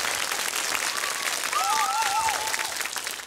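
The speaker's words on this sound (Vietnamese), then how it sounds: "một tràng pháo tay thật lớn" A large audience applauds a musician at a Vietnamese music show, steady dense clapping filling the room, with a sustained whistled or sung melodic tone briefly rising above the applause.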